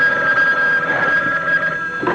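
An old telephone bell ringing in a slasher film trailer, a loud, steady, close metallic trill sounding on its own.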